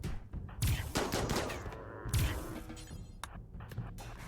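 Rapid gunfire from a firefight in the video game RimWorld, with dense overlapping volleys of shots in quick bursts, loud and continuous with no talking.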